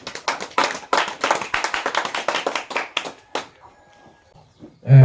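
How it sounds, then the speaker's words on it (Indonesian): Attendees at an annual cooperative members' meeting clap their hands in a close, lively round of individual claps that thins out and stops after a few seconds, followed by quiet room noise. "Tepuk tangan."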